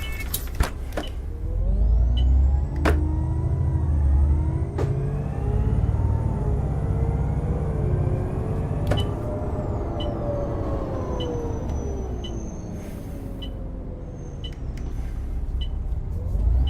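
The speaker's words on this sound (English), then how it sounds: "Close the rear doors." Rear doors of an ex-London Enviro 400 bus with ZF gearbox on a tight country route, a drawn-out electric whine and hiss of the door mechanism over the idling engine, with sharp clunks and ticks as the doors close.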